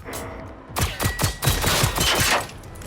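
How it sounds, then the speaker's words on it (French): Shotgun blasts from a pump-action shotgun in the video game Generation Zero: a rapid series of loud, sharp shots in quick succession, close and punchy, with no talking over them. "là il vient de tirer avec son fusil à pompe"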